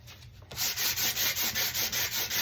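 Sandpaper rubbing over an old wooden sewing table drawer, heard as about nine even back-and-forth strokes after a brief quiet start, close and alone.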